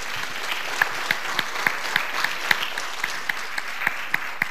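Applause from a crowd at a talent show preliminary round fills the space evenly, with a few sharper individual claps standing out at irregular intervals.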